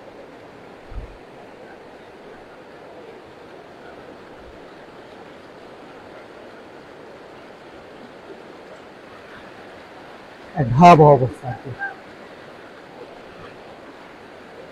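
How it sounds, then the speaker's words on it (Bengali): A strong current of floodwater rushes past in flood-hit northern Bangladesh, a steady broad wash of sound throughout, with a short burst of nearby speech about two-thirds of the way in. "কারণ পানির তীব্র স্রোত কোন দিকে রাস্তা ভাঙতেছে আর কোন দিক দিয়ে যাচ্ছে"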